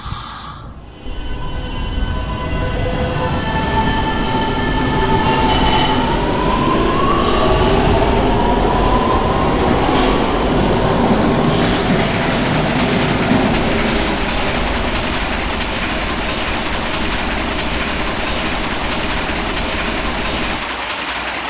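Subway train in a Roblox subway driving game departs as a loud, steady rail roar builds, with a rising motor whine and a sustained rumble that continues alone to the end.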